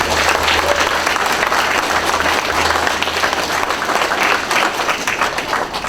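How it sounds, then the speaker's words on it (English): A large audience bursts into sustained, loud applause for JROTC cadets at an entertainment show, dense clapping filling the whole stretch without pause. "Let's give a round of applause for our JROTC cadets here today."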